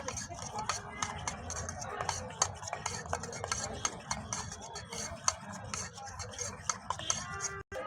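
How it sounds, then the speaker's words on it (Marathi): Spoon stirring masala into a pizza topping mixture at a street pizza stall, a busy run of scraping, clinking strokes close by, with kitchen clatter and background chatter around it. "हा आपण आता मसाला टाकला त्याचावाला स्पेशल याला आपण पूर्ण मिक्स करून घेत असतो"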